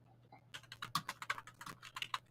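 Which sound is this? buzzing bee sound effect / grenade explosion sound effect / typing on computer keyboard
typing on computer keyboard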